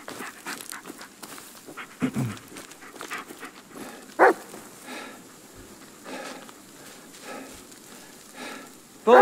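A dog panting in the horror game Blair Witch, quick breathy huffs recurring through the clip amid footsteps and light ambient noise, with a couple of sharper louder bursts.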